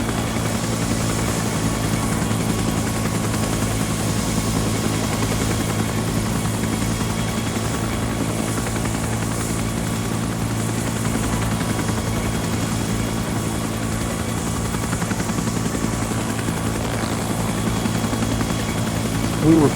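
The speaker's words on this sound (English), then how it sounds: "We were using a UH-1 helicopter." A UH-1 helicopter in the military video game Arma 3, a loud continuous rotor and engine drone that holds steady from start to finish, with a voice talking faintly over it.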